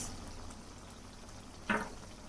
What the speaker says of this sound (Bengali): তিন টেবিল চামচ ভিনিগার দিলাম আর তিন চা চামচ সয়া সস